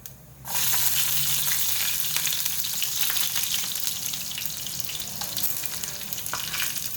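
Garlic drops into hot oil already holding cumin and mustard seeds for a dal tadka, bursting into a loud, close, continuous sizzle after a brief quiet start, with occasional faint utensil taps.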